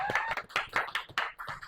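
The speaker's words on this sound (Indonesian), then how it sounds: "Aplaus untuk Adi." A small classroom group gives a quick round of applause for a student, a short burst of uneven close hand clapping lasting under two seconds.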